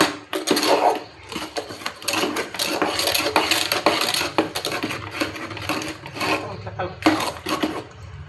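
A jaggery and sugar mixture is stirred in a pot, giving a continuous close scraping and sloshing with uneven pulses, under a low voice.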